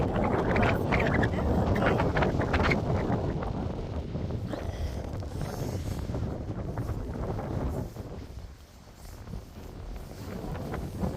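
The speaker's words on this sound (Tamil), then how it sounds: "மழையும் வர ஆரம்பிச்சிருச்சு காற்று பயங்கரமாக அடிக்குது" Strong wind roars and buffets the microphone steadily as rain begins, gusting loud then easing slightly near the end, with faint voices buried beneath.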